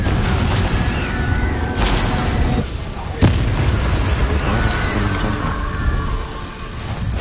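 A Confringo blast spell explodes in the Hogwarts Legacy video game, producing a dense, loud rumbling burst with a sharp crack in the middle and a sustained roar of game noise.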